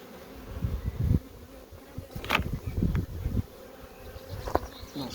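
Honeybees buzz around an open hive during a colony inspection, a close, uneven drone with individual bees swelling loudly past the microphone in several passes over low background rumble.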